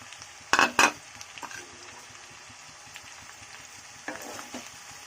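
Carrots, beans and cabbage for veg chowmein are stir-fried over a continuous sizzle, with sharp spatula-on-pan clatters early on and again near the end.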